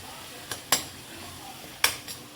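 A metal spoon stirs coriander and chilli in a cooking pan, giving a few light, close clinks and scrapes spread over a couple of seconds against a quiet kitchen background.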